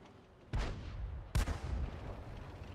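A tank cannon fires in the World of Tanks video game, with two heavy booming shots about a second apart over low background rumble, the second sharper and louder.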